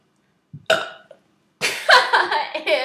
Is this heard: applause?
no